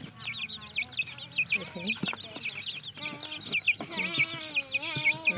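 Young chickens cluck and peep nearby while pecking at insects in garden soil around a plant's roots, and a person talks briefly over them.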